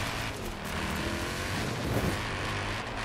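A car drives in Forza Horizon 4, a steady loud engine drone with a low rumbling hum that holds level throughout, up close with no speech.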